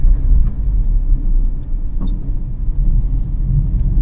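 A car pulls away in first gear through city traffic on the road from Tambaram to Chennai Central, its engine a steady low rumble close by, with a couple of faint clicks and no voices.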